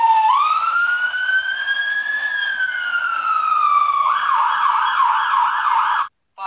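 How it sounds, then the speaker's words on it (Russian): A loud fire engine siren rises in a long smooth wail, then switches to a fast warbling yodel before cutting off abruptly near the end; close and continuous. "Пожарная машина."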